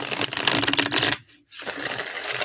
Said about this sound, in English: Oh, yes, I will shuffle.